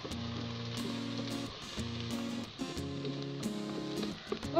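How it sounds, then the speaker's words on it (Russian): Onion frying for Uzbek plov in a multicooker, a steady close sizzle with crackling pops running throughout under a recurring tonal hum, no voices. "Видно, что начинает лук слегка уже подрумяниваться."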